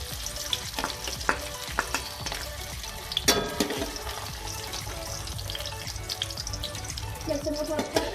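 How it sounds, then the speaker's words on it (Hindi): Chopped garlic fries in hot oil for a sarson saag with aloo, giving a continuous faint sizzle with scattered crackles and stirring clatter. "इसके लिए मैंने ऑयल डाला है, ठीक है। और ये जो लहसुन था मैं इसमें ये डाल दूँगी।"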